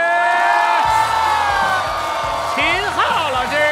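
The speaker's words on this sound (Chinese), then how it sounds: "让我们掌声欢迎嘉宾老师" A studio audience at a comedy finals show erupts in loud, continuous applause and cheering with whoops to welcome guests, while a host's amplified voice and music carry over the crowd throughout.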